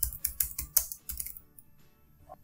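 Quiet, close computer keyboard typing, a quick run of about eight crisp key taps over a second and a half, then fading to near silence.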